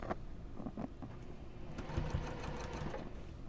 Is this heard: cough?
no